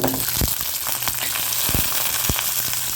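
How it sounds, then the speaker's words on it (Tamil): Garlic and small shallots fry in a pan for a horse gram chutney, a loud continuous crackling sizzle with a few sharp stirring knocks and no talking. "இதில் பூண்டு போட்டுடலாம் சின்ன வெங்காயம்"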